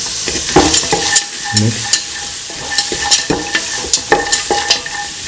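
Green chillies fry in a hot pan while being stirred, with crackling sizzle and repeated scraping, clattering stirs close by, no talk.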